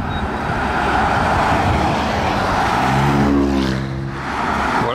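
Cars pass by one after another at a Gumball 3000 rally stop in Calais, France, among them a Rolls-Royce and a Lamborghini SVJ with a roof box. Engines and road noise roar steadily and loudly, and one car sweeps past close near the end.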